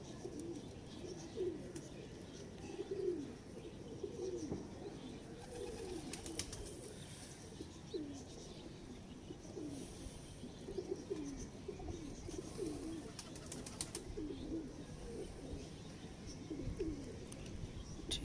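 Pigeons coo repeatedly in soft, low, rolling phrases against a steady background hum, with occasional light rustles.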